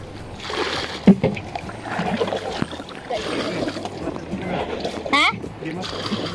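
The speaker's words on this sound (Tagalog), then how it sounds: "Lakas-lakas ng alon." Strong waves slap and splash against a small fishing boat amid gusty wind, with people talking and shouting over the choppy water.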